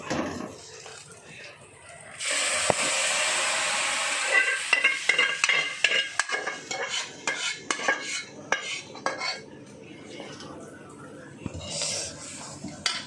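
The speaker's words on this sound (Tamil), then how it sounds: "இந்த வாழைப்பூவை நம்ம இதில் ஊற்றிக்கலாம்" Chopped banana flower tipped into a pan for a South Indian kootu, followed by a burst of frying sizzle and rhythmic clatter of a spoon stirring against the metal pan, close and fairly loud.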